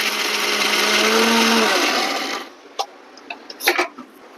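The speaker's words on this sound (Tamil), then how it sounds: "இப்போ அரைச்சிடலாங்க." An electric mixer grinder blends onion chutney with salt, a loud steady whirring drone for a little over two seconds that cuts off abruptly, followed by a few sharp clicks and knocks from the jar.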